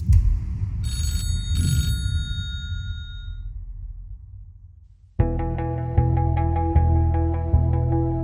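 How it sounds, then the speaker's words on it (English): A telephone bell rings in two short, metallic bursts over a low rumble, from a remote desert phone booth. After a pause, resonant chiming tones strike in a steady, spaced rhythm. "And for 3 years, the Mojave phone booth rang."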